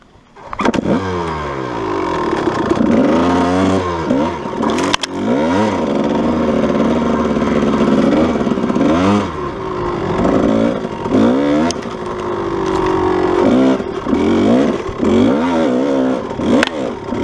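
A Kawasaki KDX220 dirt bike engine revs repeatedly up and down in sharp, loud bursts close by, with clattering idle between throttle blips.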